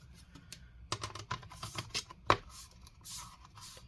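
The bottom cover of an HP ENVY 13 laptop is pressed back on, giving a cluster of quick, close plastic clicks and snaps, with one sharper click standing out, followed by faint rubbing.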